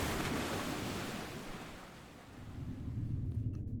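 Ocean waves crash and wash in a dense, hissing roar that swells and then eases, with wind gusting over the water and a second surge building near the end, in a sound effect for a pirate-era audio drama.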